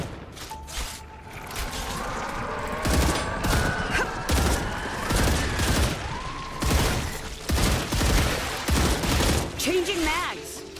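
Sustained automatic gunfire from the video game StarRupture, loud rapid bursts of shots crackling throughout, mixed with game effects and rising tonal sweeps.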